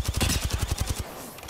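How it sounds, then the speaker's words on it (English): Rapid automatic gunfire from the video game Apex Legends rattles in a fast, evenly spaced burst of loud shots, then cuts off and leaves a short fading tail. "We're getting shot above."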